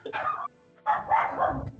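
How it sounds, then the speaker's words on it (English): A dog gives two quick barks separated by a short pause, the second drawn out into a yelping whine, close and clear with no talking. "My dog started barking."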